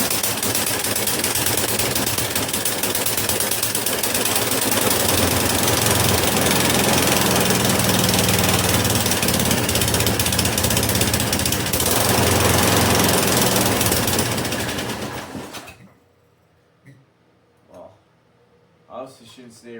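A 1990s snowblower engine, pull-started, runs in a loud, rapid, rattling roar for about fifteen seconds then cuts out, followed by a few faint knocks.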